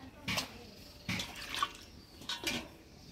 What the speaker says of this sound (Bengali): কাঁঠালের বিচি ডালের মধ্যে দিয়ে দিলাম